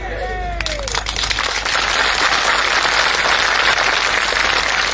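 A large crowd claps at an outdoor political rally in Sirsala, a dense, steady wash of applause that builds after a brief voice and holds loud to the end.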